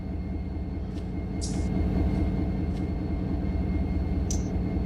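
A freight train in the Run8 simulator on the Selkirk line, a steady low diesel rumble with rhythmic throbbing, joined by a couple of brief high hissing bursts, close and continuous with no talk.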